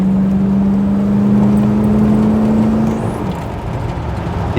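A 1970 Chevrolet Caprice with a 350 engine drives on a road, giving a loud, steady interior drone with a sustained engine tone that eases slightly near the end.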